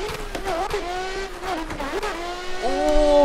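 A BMW E36 convertible on a drift run: the engine revs rise and fall sharply through shifts, with a rasping exhaust note and tyre noise, loud and close, with no voices.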